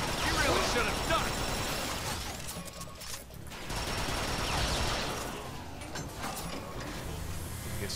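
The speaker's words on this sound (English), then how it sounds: "That is an assault rifle in there." Dense, continuous assault rifle fire in the Transformers: Fall of Cybertron video game, loud and sustained for several seconds with brief dips, mixed with other battle noise.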